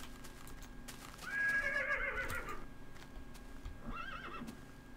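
A Minecraft horse neighs loudly in a long whinny, followed by a second shorter whinny, with faint clip-clop hoof sounds against a quiet game background.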